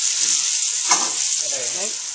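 Steady, loud sizzling of hot oil frying chicken in a pan, with a brief stirring scrape partway through.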